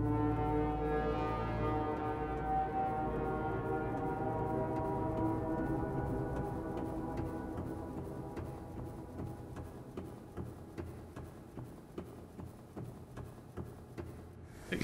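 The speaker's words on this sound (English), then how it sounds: "Are they honking?" A large ship sounds a deep, sustained foghorn blast in the video game Subnautica, loud and resonant at first, then fading gradually while faint rhythmic ticking lingers behind it.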